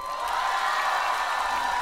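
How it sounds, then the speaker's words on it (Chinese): A studio audience at a televised singing show gives warm applause and cheers for a shy dog, a broad, steady roar of clapping and crowd noise that holds throughout. "那我们更要给它热烈的掌声，让它感受一下我们的热情。"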